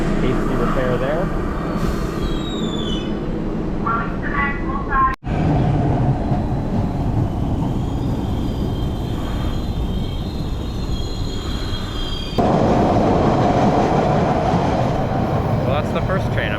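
A subway train on Boston's T rumbles loudly past, with a steady roar, screeching wheel tones and a sudden jump in loudness near the end; someone talks faintly underneath.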